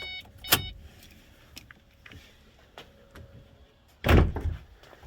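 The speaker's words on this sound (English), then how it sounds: "We just heard the relay kick off for the pump." A Ford 4.6 3V engine bay fitted with a Meziere electric water pump gives a couple of sharp, nearby mechanical clicks and thumps, about three and a half seconds apart, against a quiet background.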